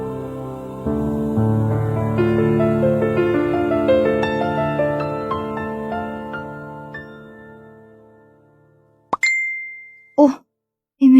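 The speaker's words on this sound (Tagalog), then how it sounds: "May message galing kay Nessa." A short chiming phone message notification rings out clearly at the end, following a long, fading stretch of sustained melodic tones, with a couple of soft plops just after.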